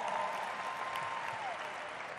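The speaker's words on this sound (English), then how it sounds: "Let's give her a round of applause." A crowd claps together in steady applause, a dense patter of hands lasting a couple of seconds, with a faint tone running underneath.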